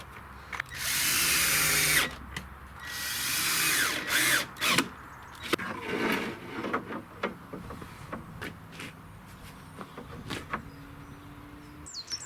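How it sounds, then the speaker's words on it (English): A drill driver drives screws into a wooden folding workbench with two long, loud whirring runs followed by quieter short bursts and clicks as each screw seats. "It's then just a really simple job of driving the screws home using my drill driver."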